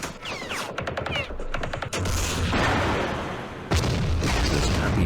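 Bursts of gunfire and heavy booming explosions from the Vietnam War strategy game Campaign Series Vietnam, Battle of Hue, with rapid machine-gun volleys early, then sustained loud rumbling blasts and a sharp new impact near the end.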